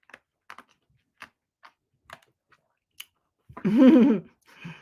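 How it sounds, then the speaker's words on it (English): Sharp, crisp crunches of ice being chewed come as scattered separate bites close to the microphone, followed by a brief burst of someone talking. "I'm chewing ice again, y'all."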